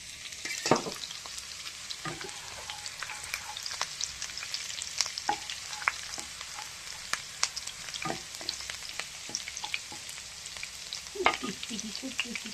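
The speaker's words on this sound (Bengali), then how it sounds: "পেঁয়াজটা লাল করে ভাজা হয়ে গেছে।" Onions fry in a pan until browned, giving a steady, moderately quiet crackling sizzle with scattered sharp pops and light stirring clicks throughout. No voices are heard.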